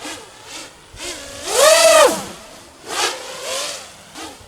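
FPV drone on an RMRC Valorem frame with motors throttled to about 75%, a whining buzz that swells in several bursts and sweeps up and down in pitch, the loudest burst near the middle.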